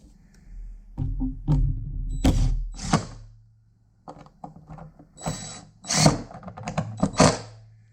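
A power drill bores pilot holes and drives screws into a wooden mold box, giving several short close whirring bursts separated by pauses, with no talking.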